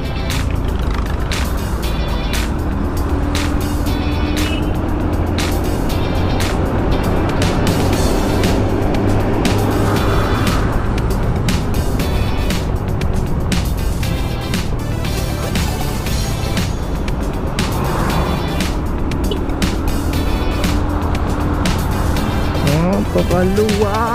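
Motorcycle cruising along MacArthur Highway in Valenzuela, a steady engine and road drone with rushing wind, continuous and close, while a rider's voice talks over it.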